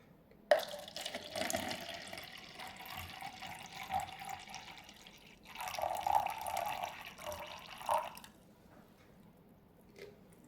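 Water poured out for mixing an eco casting medium, a splashing liquid pour in a few bursts that swell and ease off, close by with no talking.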